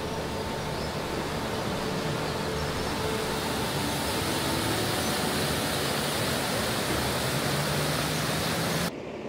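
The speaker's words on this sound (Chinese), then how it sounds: "在石碇街区的小桥上，沉淀的溪水嘈嘈，让我想停下脚步" A stream rushes under a small bridge in the Shiding street area, a steady close wash of flowing water that continues evenly before cutting off abruptly near the end.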